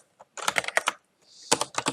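Code being typed on a computer keyboard: two quick bursts of crisp, close key clicks separated by a short pause, with no talking.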